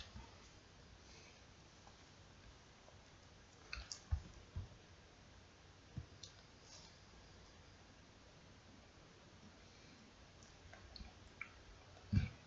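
A computer mouse clicking at a desk while working in Arduino software, a few faint sparse clicks scattered over quiet room hiss, the last one a bit louder.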